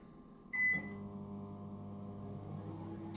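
A short high beep, then a steady low microwave hum with a droning electrical tone that runs on without a break, powered by a portable power station.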